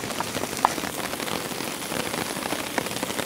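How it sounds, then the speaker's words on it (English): Steady heavy rain pattering densely on a tent during storm camping, with a constant hiss and occasional louder drops, no voices. "But I suspect the rain will just carry on kind of like this."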